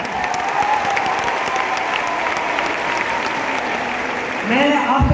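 Loud, sustained applause from a large audience at a packed wellness company gathering, dense clapping filling the whole stretch with a brief swell near the end.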